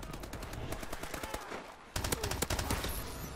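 Rapid automatic gunfire from a Call of Duty: Advanced Warfare match, dense bursts of shots that dip briefly before a louder, sharper volley resumes, close and continuous.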